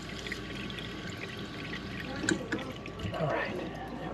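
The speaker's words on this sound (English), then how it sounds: "when you start to turn the water on, you can see the water starting to come out of the filter itself" Water pours and trickles out of a Berkey water filter element while it is being primed, a steady liquid splashing with a slightly louder gush near the end, heard under a voice talking.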